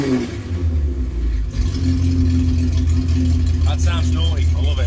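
A Reliant Robin engine fitted with race cams, revving close and loud with a rough grumbling note and rising throttle blips, while a person talks over it.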